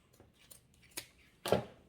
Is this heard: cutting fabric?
yes